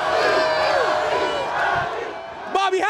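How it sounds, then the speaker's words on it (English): Arena crowd roars and cheers wildly for Bucks player Bobby Portis, a loud sustained wall of whoops and shouts with a few voices calling out near the end. "It started as the crowd went wild for Bobby Portis."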